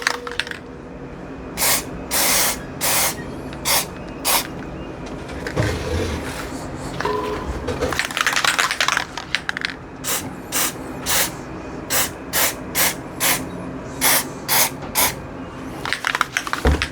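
White lithium grease sprayed onto the nylon gears of a geared bicycle hub, a series of short sharp hissing bursts in quick rhythm, close up, with light handling noise between them and no talk.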